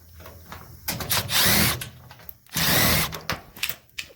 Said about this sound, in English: So you get these couple of screws here. We're gonna take one of those guys out.